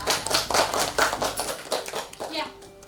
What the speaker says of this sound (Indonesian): tepuk tangan buat kalian karena kalian hebat